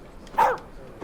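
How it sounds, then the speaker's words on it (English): A single short dog bark sounds once, fairly close and moderately loud, a brief yip-like woof against a quiet indoor background with no talking. "It was my dog saying hello to you."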